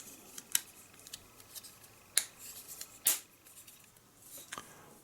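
Small plastic parts of a model aircraft kit fuel tank click together, giving a few sharp, faint clicks and snaps spread irregularly over a quiet background.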